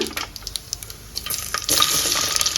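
Dry red chilies and coarsely crushed garlic frying in oil for a festival dish, a steady close sizzle with intermittent stirring clicks and scrapes that grows louder toward the end.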